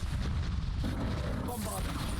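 Confringo fire spell blasting in the Hogwarts Legacy video game, with loud booming explosive rumbles and crackling bursts in a dense, continuous game-combat mix.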